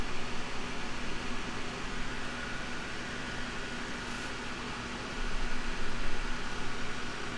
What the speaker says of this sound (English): That fan is actually a really nice white noise generator.